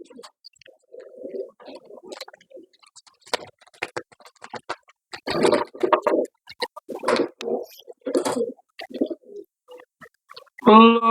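Pigeons handled one by one for sale give scattered, low coos between brief rustling and clicking handling noises, close by and fairly quiet with gaps of near silence.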